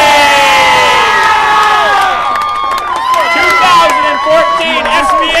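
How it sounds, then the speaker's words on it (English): A large crowd at a speedway claps and cheers loudly, a dense roar of shouts and whoops with many overlapping voices rising and falling, continuing throughout at close range. "How about a round of applause?"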